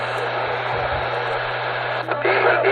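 CB radio transmission from truck drivers on a New York channel, a steady crackling static hiss over a low mains hum, with a brief burst and louder keyed signal near the end.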